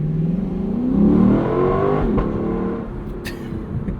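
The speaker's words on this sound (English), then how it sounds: "we'll take off from this light, and it'll still make a racket" A 2024 Lexus LC 500 convertible's V8 pulls away from a light, the engine note rising and swelling as it revs up, then settling into a steady drone, close and loud.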